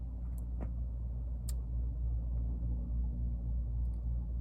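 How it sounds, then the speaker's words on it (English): A truck passing by gives a low, steady rumble that holds throughout, moderately faint, with a few light ticks on top and no talking. "Let me wait for the truck sound real quick."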